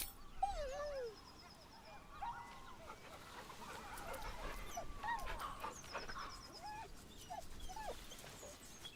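A dog in the video game Baldur's Gate 3 whimpers and whines in faint, repeated short cries over quiet ambient game sound.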